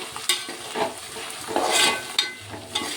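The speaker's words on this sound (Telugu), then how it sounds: "ఇలా ఫ్రై అవుతుందండి." Broad bean seeds fry and sizzle in a pan, stirred with bright scraping clatters and bursts of crackle, close and fairly loud with no voices.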